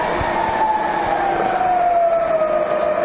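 An XYZ 1500 vertical milling machine spindle turning at 70 RPM, a steady loud mechanical whine with a tone that slowly drops in pitch over a few seconds.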